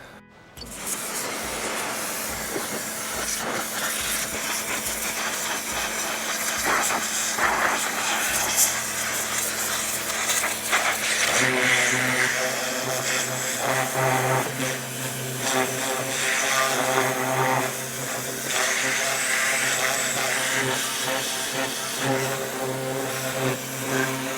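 A pressure washer sprays down a dirty 1975 Honda CB500T motorcycle during a café racer restoration, a loud continuous motorized hiss and hum that shifts in tone partway through as the spray moves over the bike, steady throughout.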